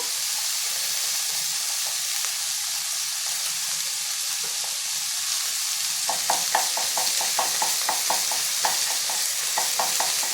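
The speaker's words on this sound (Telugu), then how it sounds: "ఇప్పుడు అల్లం వెల్లుల్లి పేస్ట్ కూడా వేసుకున్నాము అది కూడా కొంచెం నూనె వేసుకొని వేయించుకున్నాము" Ginger garlic paste frying in oil with vegetables for purple cabbage veg fried rice, a constant close hiss and sizzle, joined after a few seconds by a rhythmic run of spatula scrapes and taps.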